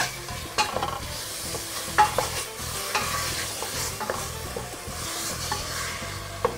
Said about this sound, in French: Et on vient remuer le tout.